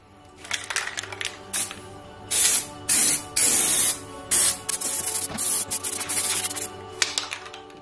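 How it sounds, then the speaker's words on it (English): Leak fix spray sprayed from an aerosol can onto a pot for pallet garden furniture, in a series of loud, hissing bursts of about half a second each, separated by short pauses, close by with no talk. "I have so-called leak fix spray on hand."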